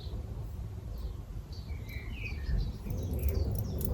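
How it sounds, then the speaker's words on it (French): Birds sing outdoors in faint, scattered chirps and short high calls, heard at a distance over a steady low background rumble with no talking. "avec le chant des oiseaux"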